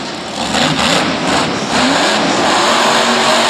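A monster truck engine roars loud and continuous during a freestyle run at a 2015 MetLife stadium show, holding a heavy revving drone close up throughout.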